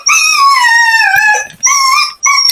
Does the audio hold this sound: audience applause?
no